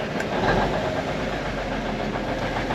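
A Kenworth K100 truck engine running at fast idle, a steady, even diesel rumble that holds at one level throughout with no voices.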